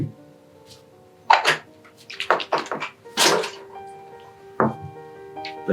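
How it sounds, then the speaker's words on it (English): Water splashes and sputters in short, uneven bursts as a pH probe gets rinsed with DI or RO water, close and fairly quiet with gaps between the pours. "Second rinse with water."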